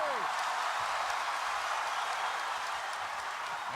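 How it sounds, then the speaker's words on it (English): Distant crowd applause and cheering from Chicago fans in a basketball arena, a steady broad wash of noise throughout, fairly faint and continuous. "you can hear the Chicago contingent applauding the efforts of the Bulls"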